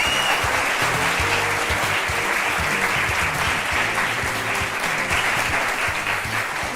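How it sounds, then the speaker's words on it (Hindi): A studio audience at a televised courtroom-style talk show claps steadily, loud and dense throughout, with no voices over it. "तो ये तालियां बजते रहें।"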